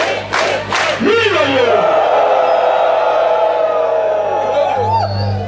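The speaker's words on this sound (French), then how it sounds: "Applaudissons! Applaudissons! Applaudissons!" A church congregation at a Sunday service erupting in loud cheers and shouts, a dense crowd roar with whoops that swells and carries on for several seconds, close and strong.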